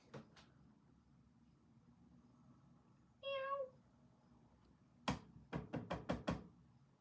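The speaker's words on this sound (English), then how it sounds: "The cats are out there fighting." Cats fighting outdoors: one drawn-out, wavering meow in the middle of a quiet stretch, then a rapid cluster of sharp, loud yowls and spits close together near the end.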